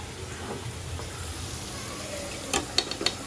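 Meat frying in a pan, a soft steady sizzle close by, ending with a few sharp clinks and scrapes of a utensil against the pan.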